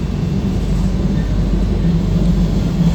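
Steady low rumble of a passenger train running along the track toward Lisbon, a constant droning roar with faint rattling and no voices.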